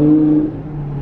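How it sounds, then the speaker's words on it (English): Deep exhaust note from an 800 hp Audi R8 V10 Plus supercar with a VF supercharger, a steady close drone with a bright tonal layer that fades after half a second, brief and alone. "The only thing that you notice is that incredibly loud frequency intelligent exhaust."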